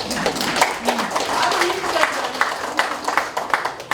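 An audience applauds at the founding anniversary ceremony of a Kim Dae-jung Foundation branch in a large auditorium hall in Seongnam: a dense, steady wash of clapping that fills the room.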